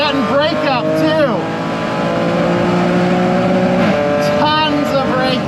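A 2012 Audi S4 engine revs hard and loud with ignition breakup, its pitch sweeping up and down in stuttering bursts throughout, while someone talks over it.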